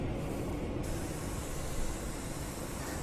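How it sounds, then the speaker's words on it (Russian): Chlorhexidine disinfectant sprayed into a car's ventilation air intake makes a steady, broad hiss that continues at an even level throughout, a little brighter at the very start. "Сейчас у нас будет происходить забор воздуха снаружи вместе с распыленным хлоргексидином."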